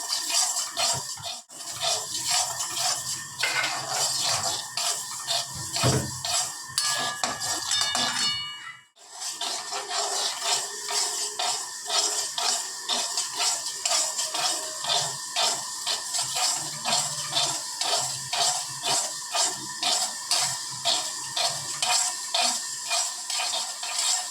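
Sesame seeds dry-roast in a pan for sesame laddoos, with a steady, rhythmic scrape and rattle as a spatula stirs them continuously, plus one brief pause.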